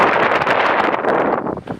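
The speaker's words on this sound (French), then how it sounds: "Ouais, heureusement il y a du vent." Wind blowing outdoors on a hot day, a steady loud broadband rush buffeting the microphone throughout, easing slightly near the end, with no other clear sounds.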